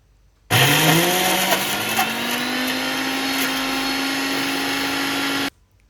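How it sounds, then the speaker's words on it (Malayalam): A mixer grinder jar grinds shallots into a paste for crab curry, a loud, steady motor whine that rises slightly in pitch as it spins up and runs for about five seconds before cutting off, with no talking. "ഒരു മിക്സിയിലെ ജാറിലേക്ക് ഇതെല്ലാം കൂടി ഇട്ടിട്ട് ഇതൊന്ന് അരച്ചെടുക്കാം"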